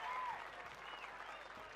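Crowd applause and cheering at a men's hockey final between Cambodia and Sweden, a steady broadband roar of clapping with a brief whistle tone near the start, moderately distant and continuous.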